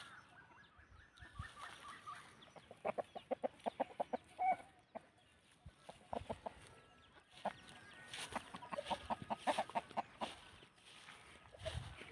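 Burmese fighting chickens on a farm cluck in repeated, fairly close bursts, the calls bunching into busy rhythmic runs with short gaps, over a low background of farmyard noise.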